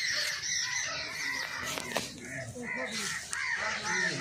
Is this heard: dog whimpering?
no